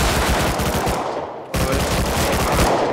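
Rapid bursts of automatic gunfire from an online shooter video game, loud and sustained with a short gap midway, heard alone without voices.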